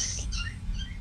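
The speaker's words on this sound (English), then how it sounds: "I didn't even realize my bird was singing." A pet bird gives a few quick high chirps indoors, brief and fairly clear above a low background hum.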